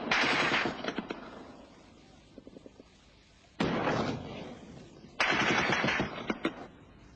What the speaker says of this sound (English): the Egyptian forces unleashed a barrage of fire across the canal at Israeli positions